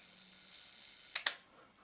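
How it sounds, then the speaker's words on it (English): A Rolleiflex Tessar 1:3.5 75mm camera shutter fires with two sharp, close mechanical clicks in quick succession, the second a touch louder, against a quiet room background. "So I can actually fire the shutter."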